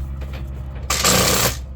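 Bolts being tightened on the sump of a Kia Sportage, a short burst of rapid ratcheting or impact-tool clatter lasting about half a second, close and fairly loud over a low steady hum.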